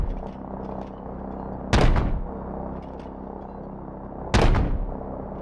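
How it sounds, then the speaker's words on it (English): Two heavy booming gunshots, spaced a few seconds apart, over a steady low rumble during a combat mission in the video game Call of Duty: Modern Warfare Remastered. "we're taking fire from all sides"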